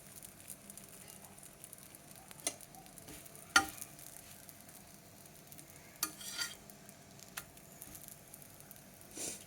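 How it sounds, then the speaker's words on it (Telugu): An egg dosa (kodi guddu attu) fries quietly on a pan, giving a faint, steady sizzle broken by a few sharp clicks and scraping sounds, with no talking. "ఒకవైపు వేగిన తర్వాత మరోవైపు టర్న్ చేసుకోవాలండి."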